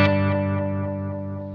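A Tele-style electric guitar runs through a Sonicake Levitate delay set to fast repeats with high feedback, so one sustained chord rings out with dense, echoing tails that fade slowly and evenly on their own.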